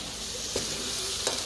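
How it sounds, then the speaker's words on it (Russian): Pad thai sizzles steadily in a hot pan, with two brief scraping stirs breaking through the constant frying hiss. "Паттай сгребаем наверх сковородки."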